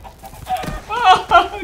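In the Minecraft: Story Mode video game, a chicken clucks in a few short, bright bursts that grow louder toward the end, alongside a voice talking.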